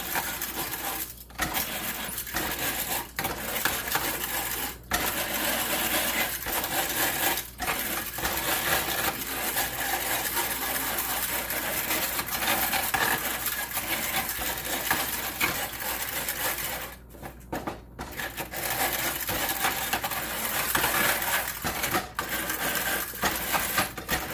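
Eggs being beaten for an omelette: a steady, busy clatter of a utensil whisking against a bowl, close up and continuous, with brief pauses.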